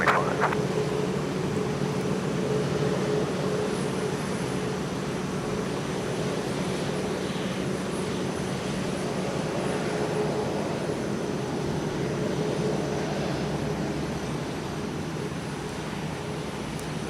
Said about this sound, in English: Almost about to touch down on runway 12 right, Frontier 1615 with Hunter the Bobcat on the tail of an A320neo from Orlando, Florida.